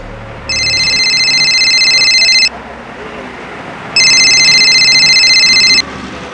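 A telephone rings in two bright electronic bursts of about two seconds each, separated by a short pause, loud and close with nothing else over it.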